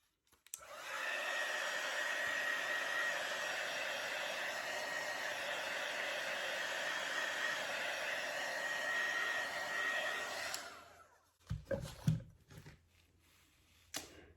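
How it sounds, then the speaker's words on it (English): Heat embossing tool blowing hot air over poured acrylic paint, a loud steady whooshing hum lasting about ten seconds before cutting off, followed by a few brief clattering knocks. "I'll just hit it with the heat embossing tool just to bring up any more cells."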